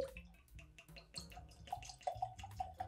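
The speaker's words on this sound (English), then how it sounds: "so let's open it, pour it up, see what we think." Blood Oath Pact 9 Kentucky straight bourbon whiskey is poured into a glass, a close, quiet, gurgling trickle with small glugs and drips that rises in pitch as the glass fills.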